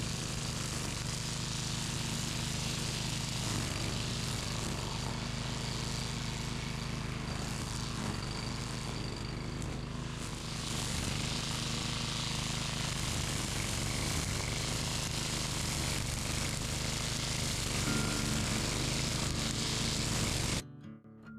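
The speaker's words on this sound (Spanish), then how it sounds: "voy a seguir usando esta pequeña podadora DR porque está funcionando bien" A small DR walk-behind gasoline mower engine runs steadily up close, a constant droning hum with slight wavering, cutting out abruptly at the end.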